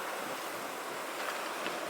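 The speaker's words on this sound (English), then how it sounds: "the pebble waves crashing" Waves break steadily on a pebble beach in a winter cove in Scotland, heard as a constant loud wash of surf mixed with wind noise and no talking.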